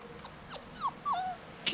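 Bully Kutta puppies at five and a half weeks old give a few short, high yips and whimpering barks, close by and fairly faint, with a louder yelp at the very end.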